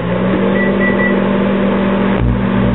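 A microwave oven hums steadily while heating a macaroni beef casserole, a loud, constant drone with a brief clunk near the end.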